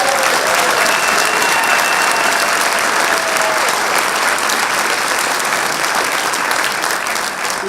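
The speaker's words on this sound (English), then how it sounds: "Let's give Chuck a big round of applause." Loud, dense applause fills a swearing-in ceremony hall for a state senator, a continuous roar of many clapping hands that holds steady for several seconds with a faint crowd murmur beneath.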